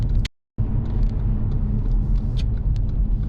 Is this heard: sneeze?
no